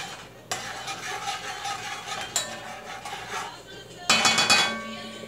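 A spoon stirs two spoonfuls of oil and a spoonful of sofrito in a pot over medium heat for Spanish-style rice. A close, steady scraping swirl is punctuated by sharper clinks against the pot, and a louder burst comes near the end.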